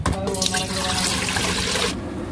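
Noodles go into a pot of boiling water for Burmese egg atho, with a steady broad watery rush and bubbling that cuts off near the end, while someone talks faintly alongside.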